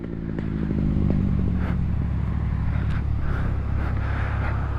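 A dirt bike engine drones steadily while being ridden for a wheelie attempt, loud and close, with a rough mechanical rumble and occasional clattery scrapes, no voices.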